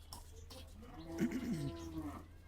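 A buffalo's low, drawn-out moo rises and falls briefly over steady background hum, fairly faint and at some distance, at the Gabtoli cattle market.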